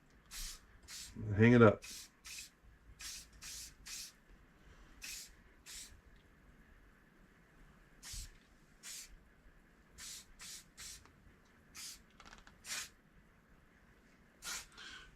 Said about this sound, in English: we're just going to hose it down with that